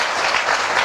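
Applause from an audience at a Pandokhar Dham gathering: a dense, steady burst of many hands clapping, loud and close, lasting just under a second with no speech.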